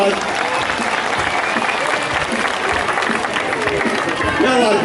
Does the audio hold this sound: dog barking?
no